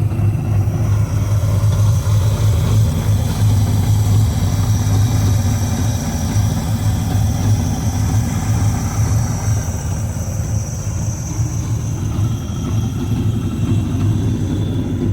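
An RC monster truck's motor runs steadily, giving a continuous low rumbling hum with a mechanical buzz that holds an even level throughout, with no talk.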